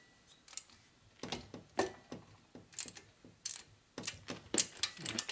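A wrench ratchets in quick clicking bursts while a head bolt is torqued on a 1980 Harley Shovelhead engine, faint and close with irregular pauses between strokes, in a quiet workshop without talking.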